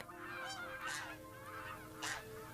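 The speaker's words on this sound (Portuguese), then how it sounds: "Laurence passa a observar os patos e os gansos que vivem nos campos perto de Altenberg" Geese honk in the fields near Altenberg with calls layered over one another, two louder nearby honks standing out above a steady chorus of the flock.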